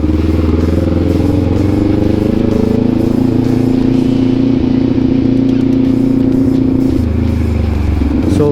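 Kawasaki Ninja 400 motorcycle under way on a test ride, its engine droning steadily and close with a constant low hum and wind rush, the pitch dipping slightly near the end.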